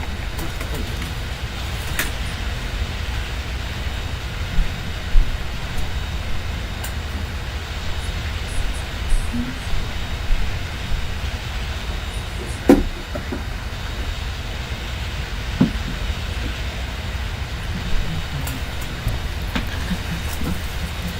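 A CP Royal Hudson 2860 steam locomotive idling at a stop on Kicking Horse Pass in the Open Rails train simulator, a low steady rumble with occasional soft clanks and hisses.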